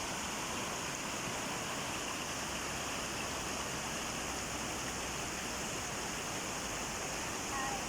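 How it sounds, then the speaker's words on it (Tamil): Water pours steadily from Thoosur lake in Namakkal district, a dense, unbroken rushing roar like a weir or small waterfall, loud and constant from start to end. "தண்ணி பாருங்கள் எப்படி போயிட்டுருக்குதுன்னு"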